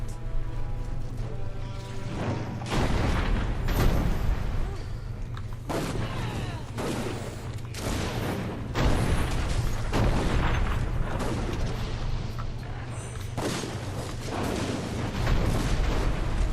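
Cannons fire in the video game Dungeon Siege 3: loud, heavy booms repeat in irregular bursts over a constant low battle rumble.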